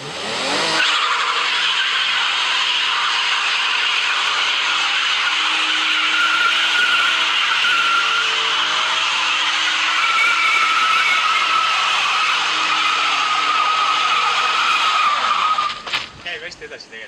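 A Lexus IS200 with a swapped 1UZ V8 is driven with traction control off, its tyres squealing and skidding in a loud continuous howl that runs for over fifteen seconds over a droning engine, fading at the end.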